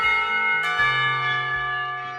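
School bell in the visual novel Katawa Shoujo marking the end of lessons, a resonant chiming peal with repeated strikes ringing out over a sustained hum, fairly loud and alone without talk.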